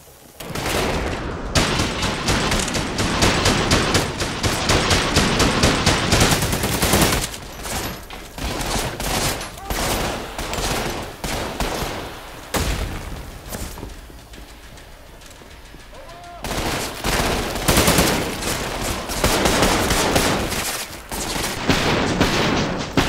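A new gun fires in the first-person shooter Trepang 2, loud rapid bursts of automatic gunfire hammering almost continuously, broken by brief pauses between volleys, up close and dominant with no talking.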